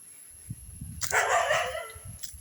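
A dog lets out a short burst of barking at a moderate distance outdoors, about a second long, with faint thumps and background noise around it.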